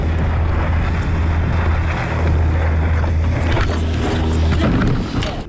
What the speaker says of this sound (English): as the other boat passes